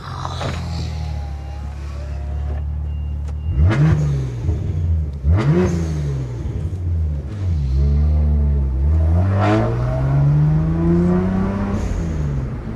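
A BMW 1M's N54 engine revs repeatedly, each blip rising and falling in pitch, then a longer climbing rev with a deep, throaty rumble up close.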